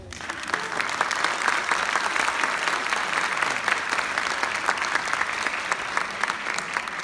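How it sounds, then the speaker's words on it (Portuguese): An audience at an evening performance breaks into sustained applause, a dense, even wash of clapping that continues at steady loudness throughout. "Eu bateria uma salva de palmas."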